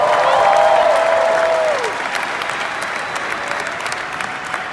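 Seminar audience claps loudly in a sustained burst of applause, with a shouted vocal cheer over it early on, then the clapping thins and fades to a softer patter.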